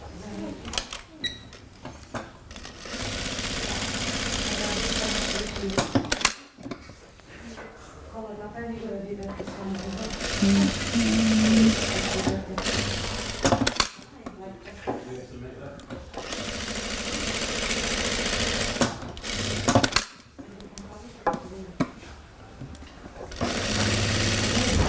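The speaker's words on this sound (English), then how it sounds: "Now I'm going to do 10 stitches using my foot as a guide, parallel to one another." An industrial sewing machine stitches fabric samples in bursts of steady mechanical whirring, starting and stopping several times between pauses, with a person speaking throughout.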